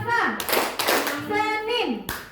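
Children in a classroom clapping game clap in short bursts between spoken voices, the sharp hand claps mixed with talking close by.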